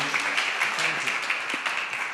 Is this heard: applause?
yes